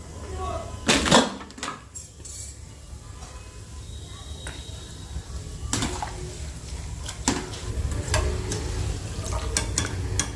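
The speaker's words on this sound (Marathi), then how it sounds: "काप केलेले आहे खोबऱ्याचे ते टाकते खोबरं शेंगदाणे आणि डाळवं डाळ तर हे सर्व काही ना छान मस्त तळून घ्यायचं" Coconut slices, peanuts and roasted chana dal frying in hot oil, a soft continuous sizzle broken by several sharp stirring scrapes and clatters of a spoon against the pan, fairly quiet and close.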